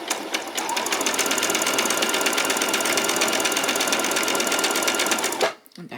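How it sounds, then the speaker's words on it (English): A sewing machine runs a zigzag stitch along a small doll's skirt, a loud, close, continuous mechanical whirr for about five seconds that cuts off abruptly near the end. "So change to my zigzag stitch."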